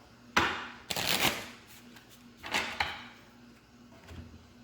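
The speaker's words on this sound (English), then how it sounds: "Do a quick shuffle." A deck of playing cards is shuffled for a game of 21, producing several quick riffling bursts, each a crisp rapid fluttering burst followed by a short pause, close and clear with no talking.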